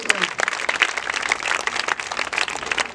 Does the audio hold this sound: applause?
yes